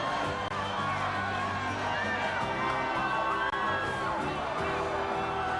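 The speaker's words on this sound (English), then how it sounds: "Thousands of Serbians around Australia delighted, and hundreds here applauding him." An outdoor crowd of hundreds of Serbian fans cheers for a tennis player after an Australian Open final win, a continuous mix of shouts, whoops and clapping, moderately distant and steady.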